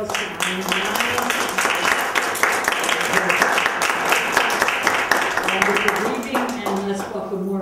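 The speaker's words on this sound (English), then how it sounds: "let's give another round of applause to Eileen Myles" Audience at a poetry reading at the PCCC Poetry Center applauding poet Eileen Myles: a steady wash of many hands clapping over several seconds, moderately loud, with voices murmuring underneath.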